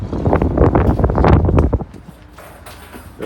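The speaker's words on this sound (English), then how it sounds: "As you can hear, it's pretty windy today." Strong gusts of wind buffet the microphone in loud, rough bursts aboard a 2020 Grady-White Freedom 285 boat, easing off to a lighter rush near the end.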